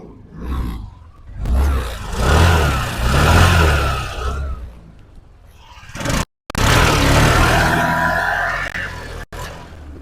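A used scooter with self-start is fired up and left running, its close engine giving a steady, rough mid-pitched hum that swells and dips, broken by two brief cutoffs.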